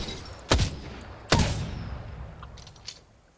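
Two loud, sharp shots from the Triple Take rifle in Apex Legends ring out about a second apart, each with a ringing tail, followed by faint mechanical clicks as the weapon settles.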